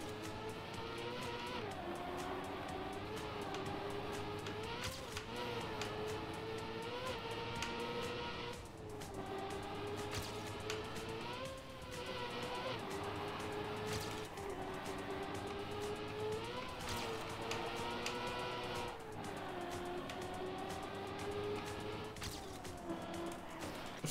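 A race car in Trackmania drives with a continuous buzzing engine that rises and falls as it revs and shifts gears, with brief dips and sharp accents through turns, fairly quiet overall.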